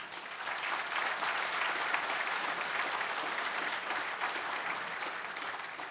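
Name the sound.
banquet audience applause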